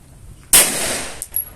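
A single sharp shot from a 1911 pistol during target practice, loud and close, followed by a short ringing decay and a couple of faint metallic clicks.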